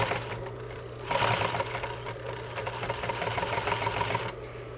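A sewing machine stitches steadily around a circle of fabric, its motor a continuous mechanical whir with rapid needle ticking that briefly grows louder and denser midway before settling back, close and alone.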